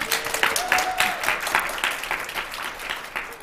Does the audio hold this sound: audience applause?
yes